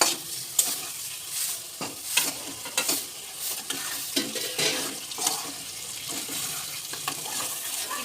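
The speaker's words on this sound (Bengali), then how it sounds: "আর আমি ভালো করে কষিয়ে নেব। করে রাখা মাংসটা দিয়ে দেবো।" Chicken sautés in a pan with garam masala and black pepper powder, giving a continuous sizzle. Irregular spatula scrapes and knocks rise above it, with a watery, splashy edge at times and no talking.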